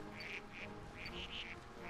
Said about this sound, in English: These just sound like regular ducks.